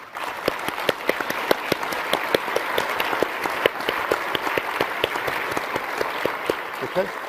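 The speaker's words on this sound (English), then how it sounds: "So I'd just like to give them a round of applause." Sustained audience applause at a keynote fireside chat, steady crowd clapping with a few sharper individual claps standing out, continuing for the whole stretch at moderate loudness.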